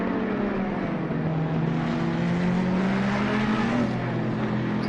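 Race cars at the Spa circuit on a formation lap, their engines a steady, continuous drone with slowly rising pitch as the cars approach and pass, fairly loud with no talk over it.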